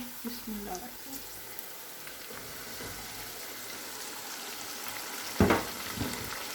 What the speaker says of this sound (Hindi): अब हम इसमें मैरिनेट किया हुआ चिकन शामिल कर देंगे।